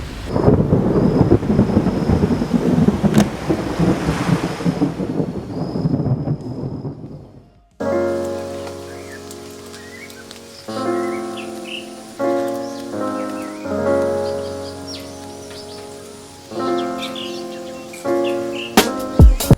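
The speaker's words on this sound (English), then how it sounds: "we also get caught in the biggest storm we've ever seen" A thunderstorm with heavy rain rolls in a loud, continuous low rumble under a rain wash for about seven seconds, then cuts abruptly to quieter, separate tonal sounds.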